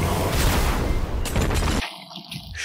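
A pulse cannon firing in an action film, a dense booming burst of blasts for about two seconds that cuts off abruptly into a fainter ringing tail.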